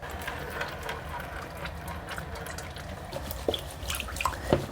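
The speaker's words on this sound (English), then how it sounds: "Even after all that panning, it's still muddy." Muddy gold-panning concentrate from ordinary Minnesota till being washed in a pan with water; soft continuous sloshing with small drips and gritty rattles, close and fairly quiet, no talk.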